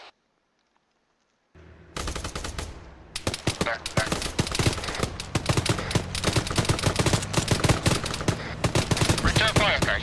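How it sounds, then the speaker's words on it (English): Video-game gunfire in Arma 3 erupts after a short silence into dense, loud bursts of automatic and single shots with rapid cracks overlapping continuously, while voices talk underneath. "With all due respect, we're kind of getting shot at."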